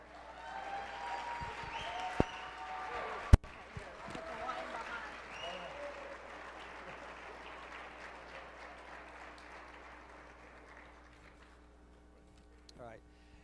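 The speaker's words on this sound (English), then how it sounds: "can we give this group a round of applause?" Audience at an IP Alliance celebration applauds a group with sustained clapping and some voices, a couple of sharp knocks early on, then the clapping gradually fades toward the end.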